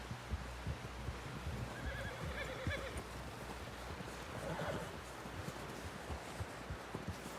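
A horse in Red Dead Redemption 2 whinnies while its hooves clip-clop, faint and low in the mix, with a brief neigh near the start and scattered hoof thuds throughout.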